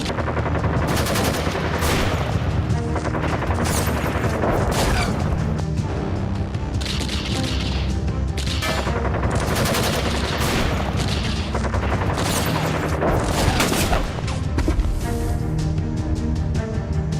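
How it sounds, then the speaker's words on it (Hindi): Rapid gunfire rattles during an army counter-terror operation in Kashmir, with dense bursts of automatic shots and sharp single cracks repeating loudly and almost without pause, some heavier booms mixed in. "हर तरफ गोलियों की तड़तड़ाहट और हर दिशा में आतंक से भीषण जंग।"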